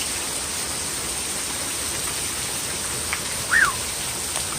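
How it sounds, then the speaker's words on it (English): Sudden rain falls as a steady broadband hiss, with a brief faint chirp-like sound near the end and no talk. "It's raining, yo! It's raining!"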